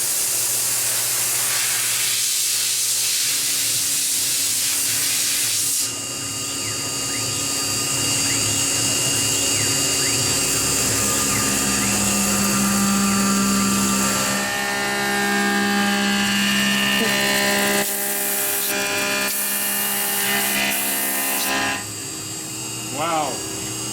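A Tormach PCNC1100 CNC mill cuts a Volvo pulley with a toroid end mill on a large step over, giving a loud steady machining whine and hiss with shifting tones, and brief talk at times.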